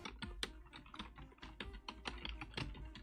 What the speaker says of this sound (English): like very... very obvious keyboard sounds